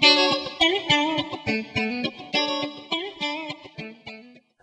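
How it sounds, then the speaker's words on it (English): Played through a coil-split middle pickup, a Parker Nightfly electric guitar rings out a bright, jangly run of plucked notes and chords in an even, steady pattern that fades into a brief silence at the end, with no talking. "Just got that real jangly sound to it."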